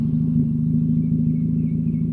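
A 2000 Nissan Sentra engine idling close by, a loud, steady low rumble with a faint pulsing throb and no clear rev change, alone without talk.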